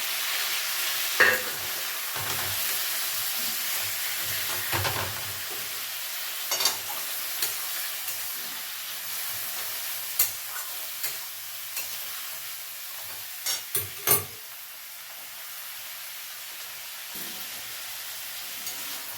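Potatoes are frying in hot oil, giving a continuous even sizzle and hiss punctuated by occasional utensil knocks and scrapes against the pan, with no talking.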